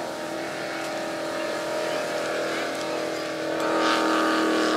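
Engines of a 30-foot Phantom racing powerboat roar past a Sarasota beach, a steady loud drone swelling toward the end, with commentary faintly underneath.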